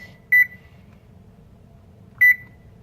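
A kitchen timer gives two short, bright beeps about two seconds apart while being set for 33 minutes during cake baking, close and clear over a quiet room.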